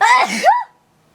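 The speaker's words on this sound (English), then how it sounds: "Wait, I need to sneeze." A single loud, close sneeze from a woman, a sharp rising burst that cuts off abruptly into silence.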